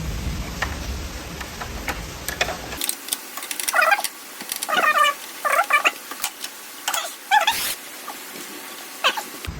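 A locking screw is unscrewed from a GTX 1070 graphics card, with close, rhythmic ratcheting clicks and squeaky metal turning sounds in short bursts after an initial hum cuts out.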